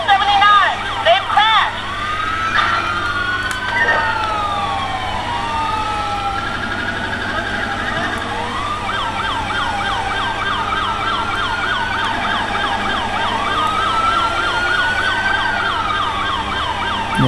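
Ambulance siren in Grand Theft Auto V during a police pursuit, loud and continuous with wailing and rapid yelping sweeps, close and dominant throughout with an engine rumble beneath.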